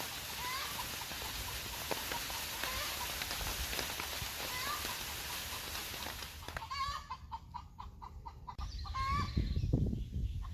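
A hen clucking around laying time outdoors during a mulberry harvest, repeated moderately loud clucks over a constant background hiss and rustle, with heavier rustling near the end.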